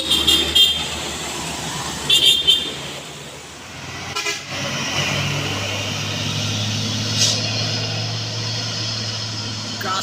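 A Colt Diesel truck's engine drones steadily as it labors up a steep hill, a sustained low rumble under occasional horn toots and bursts of voices near the start.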